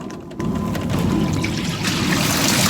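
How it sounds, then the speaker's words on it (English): Black water from an RV gushes and splashes steadily from an opened valve into a tank, a loud continuous pouring rush that starts abruptly and keeps flowing. "I'm going to open the valve and empty the black water into this tank"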